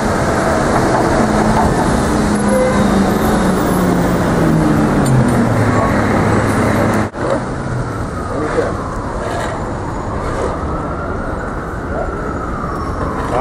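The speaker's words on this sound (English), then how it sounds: "About to get on this bus right now and keep this mission rocking." City bus and street traffic with a loud, steady drone of a passing heavy vehicle whose engine tone slides downward, then a sudden drop to quieter background traffic rumble.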